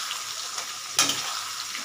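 Vegetables frying in a pan for chilli chicken give a steady, close hiss of sizzling oil, with a brief louder crackle partway through as the food is stirred.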